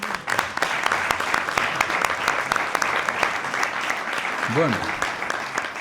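Applause from the audience at a bullfighting-calendar presentation held in a casino in Villarramiel: dense, continuous clapping close by, with a voice speaking over it.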